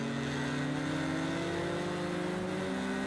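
A KTM GT4 race car in Project CARS 2 racing at Fuji holds a steady, droning engine note with slowly rising pitch, loud and continuous, with no talk over it.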